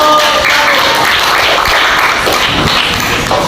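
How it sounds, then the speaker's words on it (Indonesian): A classroom group applauds another group of pupils, with scattered hand claps ringing for several seconds amid chattering children's voices. "Tepuk tangan untuk"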